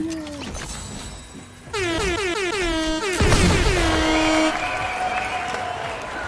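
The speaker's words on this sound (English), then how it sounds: "I just made the air horn sound effect for you." An air horn sound effect blasts during a live Fortnite stream, several loud wailing, pitch-sliding honks in quick succession over a steady background, with no voices in it.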